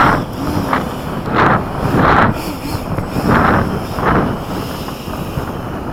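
Wind gusting across an open airfield where model F-16 jets are flown, loud rumbling buffets hitting the microphone in surges every second or so, with no talk.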